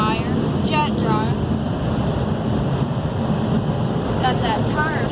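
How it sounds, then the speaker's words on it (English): A heated jet dryer in an automatic car wash blows a steady, loud rushing stream of air, with brief squeaky chirps on top and no talking. "Heated dryer, jet dryer."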